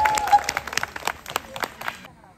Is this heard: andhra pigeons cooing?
no